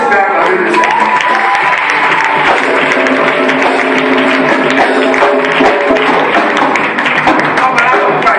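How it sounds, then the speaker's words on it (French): A church congregation applauds and cheers during a Sunday worship service, a dense, steady wash of clapping and voices filling the room for the whole stretch without pause. "Est-ce que tu peux acclamer le Seigneur?"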